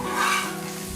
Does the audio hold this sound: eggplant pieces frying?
yes